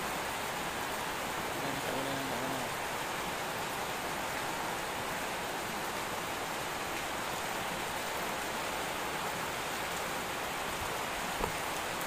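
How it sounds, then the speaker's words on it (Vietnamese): Heavy rain falls outdoors in a steady, dense hiss that holds unchanged throughout, close and loud with no voices. "Trời mưa."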